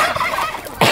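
A close, loud, harsh squawking call from a rooster, very brief, with a sharp burst at the end.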